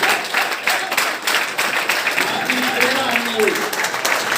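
A seminar audience applauds in a steady, dense wash of clapping with no gaps, while a voice carries on speaking over it.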